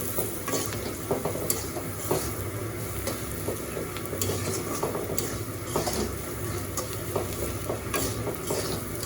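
Red lentils with turmeric powder fry in a pan for a village-style masoor dal, a continuous near sizzle broken by regular scraping strokes of a spoon stirring through.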